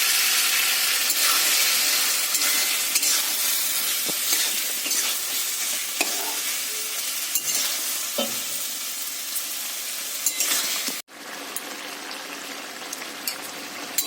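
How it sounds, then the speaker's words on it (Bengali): Muri ghonto being sautéed in a wok: continuous loud sizzling and frying with scraping stirs throughout, briefly cutting out near the end before resuming. "এবার এইভাবে আমি কষাতে থাকবো।"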